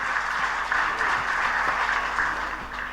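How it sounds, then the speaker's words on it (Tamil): Audience at a film success meet gives the 24 AM team a sustained round of applause, a dense steady clatter of many hands heard from a middle distance without any speech. "அவங்களுக்கு எல்லாருக்குமே ஒரு பெரிய ஒரு கைத்தட்டல் கொடுத்தா ரொம்ப நல்லாயிருக்கும்னு நினைக்கிறேன்"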